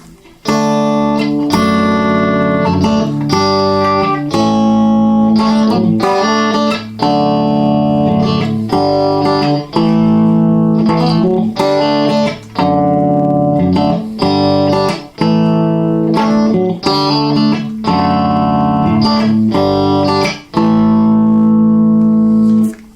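A guitar plays a finger-picked chord pattern, notes plucked in a steady repeating rhythm with a bright, slightly processed tone, loud and close.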